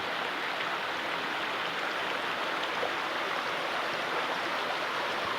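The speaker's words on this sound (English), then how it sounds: "Everywhere you look around here, there's just numerous waterfalls everywhere you go." Steady rushing water from a stream and waterfalls beside a mountain forest trail to Grotto Falls, a constant broad hiss with no breaks or voices.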